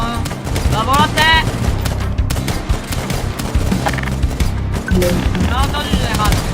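Volleys of gunfire crackle continuously through a Roblox battle, dense and loud, with voices talking over the shooting.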